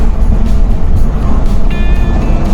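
A 4x4 multicab's engine drones loudly and steadily while driving on a highway, with road rumble filling the sound.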